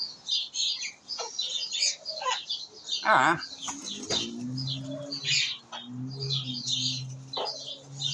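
Backyard birds chirp and coo in short bursts while eating bread, with scattered tweets and pecking sounds, while a person talks softly nearby.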